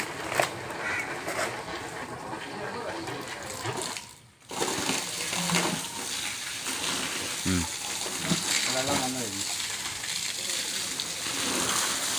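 A submersible water pump runs, sending a steady rushing gush of water that briefly cuts out and then resumes, close and continuous.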